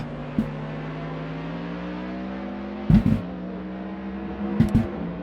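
A Cadillac V-Series.R race car engine in a racing game at Oulton Park, a steady droning tone rising slowly in pitch, broken by a few short clunks and thumps, with no talk.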